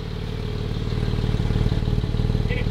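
Porsche 718 Cayman GT4 exhaust idles close by with a steady, pulsing burble that rises a little in loudness over a few seconds, with no voices.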